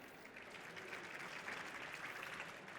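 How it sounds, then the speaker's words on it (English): Faint, steady audience applause at a tech panel discussion, a soft even wash of clapping held for a few seconds from a distance. "I think that's worth a round of applause."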